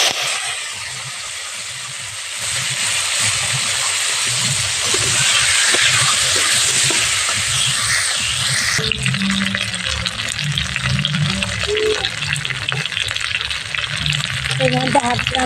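Crabs with roe fry in hot oil in a karahi, a steady loud sizzle with occasional stirring and clatter, growing busier after the halfway point.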